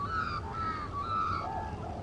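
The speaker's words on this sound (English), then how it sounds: "cue a bird right now" Crow cawing in the early morning, a few harsh calls repeating across the clip at moderate distance over steady background noise.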